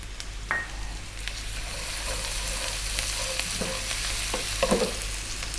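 Ginger garlic paste fries and sizzles in a pan for a Bengali rohu fish curry, with steady crackling throughout and intermittent scraping and clinking of a spoon stirring, close and moderately loud, no talking.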